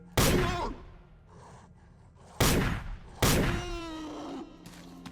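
An overpowered gun in S.T.A.L.K.E.R.: Radiophobia fires three loud, sharp single shots, each cracking close by and ringing out in a short tail, with quiet gaps between them.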